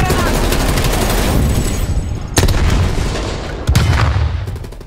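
Loud bursts of gunfire and booming blasts crackle in quick succession in Call of Duty: Black Ops Cold War multiplayer, with two sharp, close shots standing out from the continuous battle noise.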